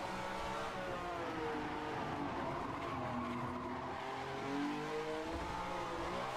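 Vintage 1967 Ferrari 312F1 race car at speed on a hot lap, engine note wavering as it shifts, with loud, steady tire squeal and skidding as the overheated rear tires slide through corners.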